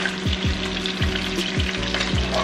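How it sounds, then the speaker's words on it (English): Steady, close sizzling of red snapper frying in a hot pan for Jamaican escovitch fish, with a few soft scraping stirs through it and no talking. "It's the fish frying"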